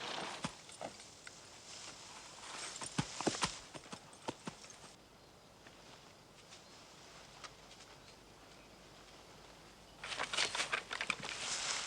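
Horse hooves clip-clopping on a path, a steady patter of hoof falls, louder at first, fading to faint, then returning close near the end.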